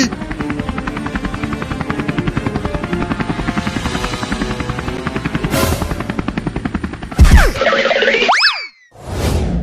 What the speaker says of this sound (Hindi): हेलीकॉप्टर को नीचे ले चलो डॉक्टर